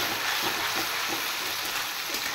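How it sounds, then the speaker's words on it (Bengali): Onion paste frying in a pan gives a dense, steady, bright sizzle that fills the whole moment without any break. "এবার পেঁয়াজ পেস্টটা দিয়ে দিলাম।"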